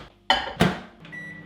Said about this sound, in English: we're gonna blast this in the microwave to melt it through